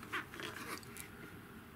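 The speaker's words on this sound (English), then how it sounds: "So I've got all this carbon fibre here that I've got to cut off." Excess carbon fibre skin being cut away from a DIY high-powered eBike frame, giving short rasping, zipper-like cuts, strongest near the start, then a steady low scratchy texture, close and fairly quiet.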